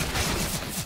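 Counter-Strike gunfire: a short, dense burst of rapid shots, loud and harsh, filling under a second with no speech.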